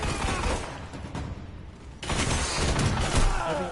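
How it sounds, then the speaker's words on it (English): Pulse rifle fire in the Destiny Crucible player-versus-player mode, from a Häkke Lydmila-D pulse rifle. Rapid bursts of gunshots come in dense clusters with a brief lull midway, loud and close, mixed with game effects. "Pulse rifles are a little OP in Crucible right now."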